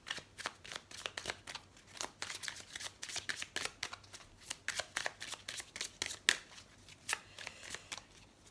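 Tarot cards shuffled by hand before the deck is cut, a dense run of quick papery riffles and flicks with sharp slaps of the cards, close up and fairly quiet, no talking.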